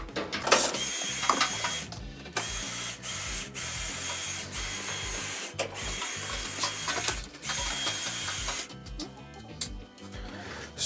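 A ratchet tightens screws on an Electrolux dryer during a repair: loud, close clicking in repeated strokes, separated by short pauses, heard alone.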